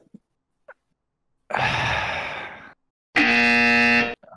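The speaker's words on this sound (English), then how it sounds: "I'm giving you the buzzer" Two loud electronic game-show buzzer blasts, the first about a second long and fading, the second a harsh steady tone, separated by silence, with no talk over them.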